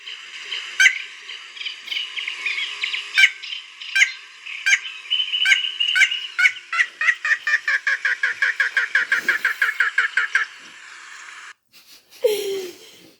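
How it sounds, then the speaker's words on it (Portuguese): A played recording of a common moorhen calling, a long run of sharp repeated notes that speed into a rapid, laughing chatter before stopping, loud and close, with a brief voice afterward. "a franga d'água parece que está a rir"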